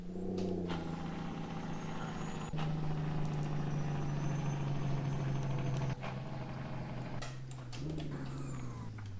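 A Kenworth K100 truck in a video game rumbles with a low, sustained exhaust-brake drone that shifts pitch a few times, with occasional clicks and hisses.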